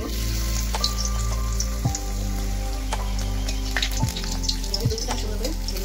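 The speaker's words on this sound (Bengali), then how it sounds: "সুন্দর করে ভেজে নেবো পাঁপড়টাকে।" Twisted papad fries in hot oil, giving a loud, continuous crackling sizzle with a few sharper pops and scrapes throughout.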